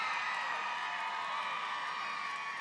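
A rally crowd at a Donald Trump campaign event in Arizona sends up a steady, dense wash of cheering and shouting that holds evenly without a break.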